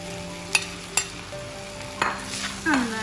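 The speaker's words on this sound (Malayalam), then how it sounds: "നന്നായിട്ട് മിക്സ് ചെയ്ത് കൊടുക്കും." Wheat pasta pulao is mixed in a pan with a spatula, giving sharp scraping clinks and short stirring strokes over a soft sizzle, close and clear.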